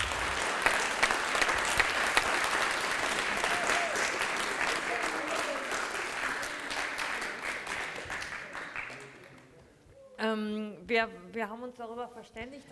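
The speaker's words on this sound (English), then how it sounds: "I think this is worth an applause." An audience applauds a visiting British author at a live literary reading event, dense clapping for about nine seconds that fades out before a voice begins speaking.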